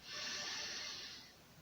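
Deep inhalation during a standing stretching exercise with the legs wide apart, one long, close, breathy rush of air through the nose that fades toward the end.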